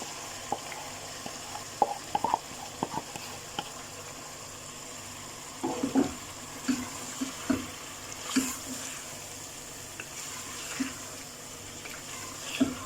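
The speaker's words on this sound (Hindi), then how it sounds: "अब 3 से 4 मिनट चिकन का भुनाई करना है कि अच्छे से इसका स्मेल निकल जाए, मसाला भी भून जाए" Marinated chicken fries in a softened tomato masala for chicken tahari, a quiet steady sizzle broken by irregular scrapes and clatters of stirring, close and alone.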